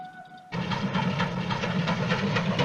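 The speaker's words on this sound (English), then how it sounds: "there's a train coming" A train approaches with a rising rumble of wheels and engine, a continuous loud rolling clatter that starts abruptly after a quiet moment and holds steady.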